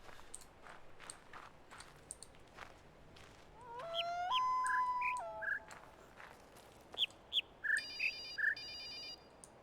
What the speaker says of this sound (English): I was kind of thinking, yeah, I hear birds, but, like, there are no birds